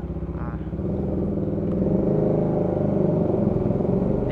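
A Bajaj Dominar 400 motorcycle engine idles and then revs up close by in a parking area, a loud steady throbbing rumble that swells after the first second and holds.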